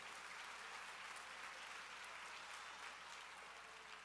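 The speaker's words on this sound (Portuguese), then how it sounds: "você pode aplaudir o Senhor?" A church congregation applauding the Lord during a sermon, a continuous, even roar of many hands clapping, fairly faint and unbroken from start to finish.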